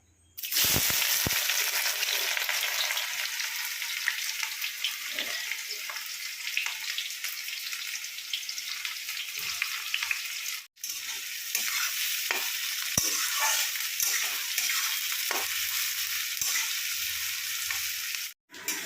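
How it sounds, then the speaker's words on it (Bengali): Onions fry in hot oil with sugar in a pan, a loud, dense, continuous sizzle close up, briefly cut off twice, with faint stirring scrapes and no talking. "পিঁয়াজটা কিন্তু একটু লাল লাল করে ভাজতে হবে"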